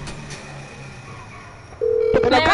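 Phone dialing the mechanic in the video game GTA: a single steady electronic dial tone starts partway through, followed by a burst of beeping tones at the end, over quiet game ambience.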